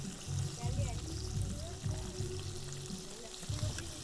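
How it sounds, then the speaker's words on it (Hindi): Fish fries in a pan over medium heat with a steady low sizzle and bubbling, a close continuous crackle beneath someone talking. "मैं जो कि मीडियम आंच पे इसको फ्राई कर रहा हूँ"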